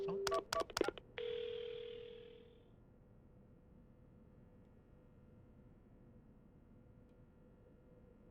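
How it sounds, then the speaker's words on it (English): A phone in the video game Paranormasight dials an ambulance: a quick burst of dialing beeps, then one long ringing tone that fades away into quiet room hum. "I've gotta call an ambulance."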